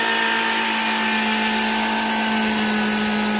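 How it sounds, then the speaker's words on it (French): A power saw cutting oak planks for the backs of coffee tables, a loud, steady, high-pitched motor whine that holds unbroken throughout. "on attaque la découpe des planches qui vont aller derrière les tables basses"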